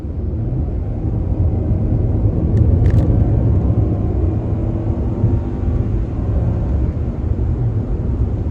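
A 2021 Nissan Altima sedan with a CVT drones steadily from inside the cabin, a low rumbling hum that builds only slightly as it accelerates with lag.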